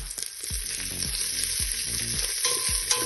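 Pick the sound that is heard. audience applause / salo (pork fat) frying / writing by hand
salo (pork fat) frying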